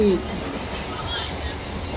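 A Bhimavaram–Vijayawada MEMU train running on rails, a steady low rumble of the moving train heard from inside, with a brief voice at the very start.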